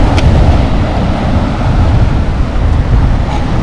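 Loud, steady wind buffets the microphone on the Black Sea shore at Lazarevskoye, Sochi, on a mild February day. A continuous roaring rush fills the whole stretch, with possible surf blended underneath and no clear speech.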